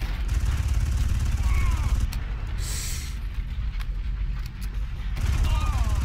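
Rapid gunfire sprayed in Far Cry: a dense run of loud shots under steady low rumble, with brief pauses and clicks, and a voice talking over part of it.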